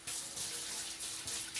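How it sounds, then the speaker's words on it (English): A kitchen tap runs steadily for washing with soap before baking a red velvet pound cake, a continuous close splashing hiss with no voices. "we're gonna start off with a little soap and water."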